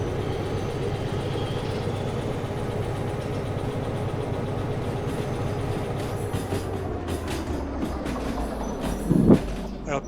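Freight wagons roll along the rails in the Derail Valley train game, a steady close rumble with rhythmic clickety-clack over the joints and a brief metallic clank near the end, a voice occasionally speaking over it.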